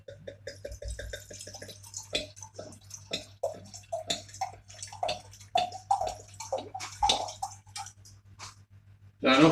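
British summer berry wine is poured, an irregular series of close glugging, gurgling splashes with liquid bursts and pauses, ending in a louder splash.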